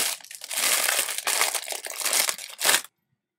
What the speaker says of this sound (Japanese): シリコンバンドを開封していきます。